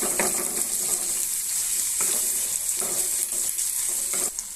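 Fish oil sizzles steadily in a hot pan, with repeated scraping stirs breaking through the frying hiss at intervals, close and alone without talk.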